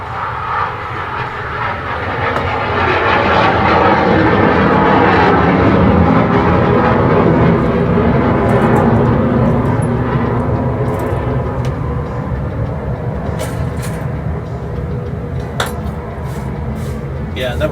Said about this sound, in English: Look at an Air Force jet taking off now.